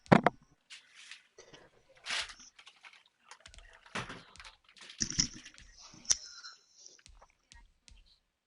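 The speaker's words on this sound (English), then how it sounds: "Quinn, is that you typing all fucking aggressively?" Aggressive typing on a computer keyboard: sparse, irregular clicks and sharp key strikes at close range, some louder than others, with quiet gaps and faint murmuring in the background.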